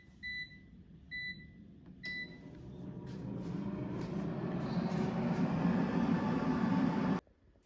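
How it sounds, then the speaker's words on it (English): An air fryer set to 370 degrees Fahrenheit gives a few short beeps, then its fan hum swells into a steady, close, even whir that cuts off abruptly near the end, with no talk. "let's put the air fryer basket in the air fryer. And I'm going to set the temperature to 370 degrees Fahrenheit"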